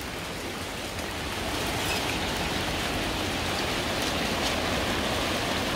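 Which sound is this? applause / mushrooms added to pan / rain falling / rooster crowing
rain falling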